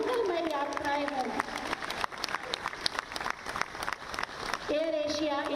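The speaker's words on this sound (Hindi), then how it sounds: "जोरदार तालियों से शुभ यात्राएं हों, मंगलमय यात्राएं हों।" Crowd applause at the inauguration of an AirAsia India flight from Lucknow, sustained clapping from many people between stretches of a voice speaking over a loudspeaker.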